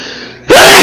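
A single sharp sneeze bursts out loudly after a brief quiet moment, close to the microphone.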